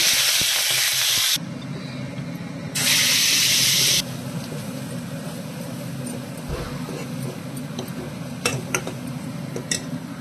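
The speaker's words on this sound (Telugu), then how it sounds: "ఆవాలు వేసుకుందాం. ఎండుమిర్చి, జీలకర్ర వేసుకుందామండి. కరివేపాకు వేసుకుందాం." Mustard seeds, dried red chilies, cumin and curry leaves hit hot oil for a chutney tempering, giving two loud hissing sizzle bursts, then a quieter crackling simmer with a few small clinks.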